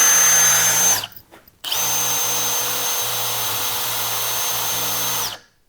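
Milwaukee impact driver spinning a 1-inch spade bit with no load, a loud steady high whine that cuts off briefly, restarts and runs evenly before stopping.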